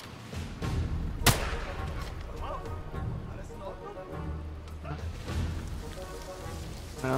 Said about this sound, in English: So I'm gonna make a loud gunshot.